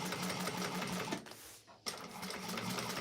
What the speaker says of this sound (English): to do a second row of decorative top stitching along there to catch that foam in there as well